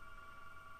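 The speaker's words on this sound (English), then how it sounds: "if you can hear that, I'm sorry, the phone's ringing in the background." A telephone rings faintly in the background with a steady electronic tone, low and continuous under a room hum while graphics glitches are shown in a Nintendo 64 emulator.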